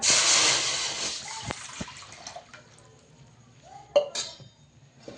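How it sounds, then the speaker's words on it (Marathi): Water poured into a metal cooking pot to heat for steaming dhokla, a broad splashing gush at the start that thins to trickles, followed by a few clinks of the vessel, close and fairly loud. "त्याच्यात आपण पाणी टाकूया गरम करायला"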